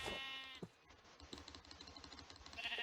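A Minecraft sheep lets out a short bleat near the start, followed by soft clicking and tapping sounds that continue through the rest of the moment.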